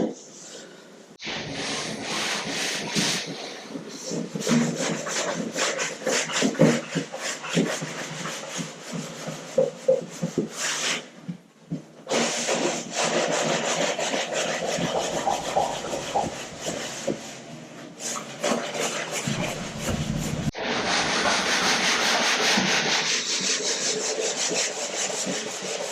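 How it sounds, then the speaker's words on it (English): Bathroom cabinets are sanded by hand in repeated rasping strokes, loud and close, with short pauses between bursts of scraping. "Next step is sanding these."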